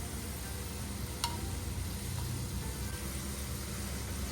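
Large chapati-like rounds of dough frying in a big pan give a soft, steady sizzle, faint and close, with one brief sharp click partway through.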